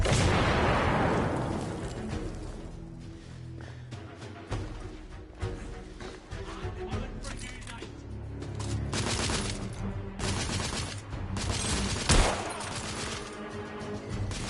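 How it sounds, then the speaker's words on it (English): A grenade blast in The Order: 1886 video game opens with a loud, decaying boom, followed by sustained gunfire and battle noise throughout. "Grenade!"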